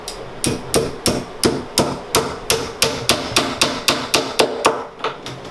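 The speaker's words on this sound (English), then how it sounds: "you can use a hammer or anything just to hit this down" Steady hammer blows strike a metal closet door pin about fifteen times in an even, brisk rhythm, each hit sharp and close with a short ringing decay.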